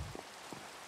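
Rain falling in the Minecraft video game, a soft continuous hiss of drops with a couple of faint patters, quiet and brief.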